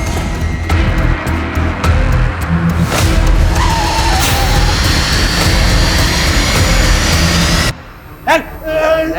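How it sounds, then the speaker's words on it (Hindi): A car pulls away in pursuit with a loud engine roar and squealing tires, sudden and close, ending abruptly as voices come in. "तू खन्ना की गाड़ी लेके पीछे आ"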